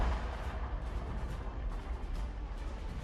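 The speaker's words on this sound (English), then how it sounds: "Maybe I'm seeing the artillery fire from these guys." Artillery fire in the video game Fall of the Samurai, a dense, continuous roar of battlefield booms and blasts that stays steady and loud for the whole stretch with no talking.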